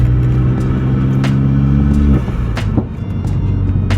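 Vauxhall VXR driven under throttle through corners with stability control cutting in, a loud close engine rumble inside the car that drops off partway through, then quieter road noise.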